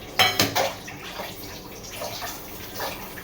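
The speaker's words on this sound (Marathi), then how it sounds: "चला पटपट भांडी घासून घेते." Dishes get scrubbed and rinsed in a home kitchen sink under running water. A few sharp clinks of utensils come first, followed by softer splashing and trickling water with light clatter, close by and moderately quiet.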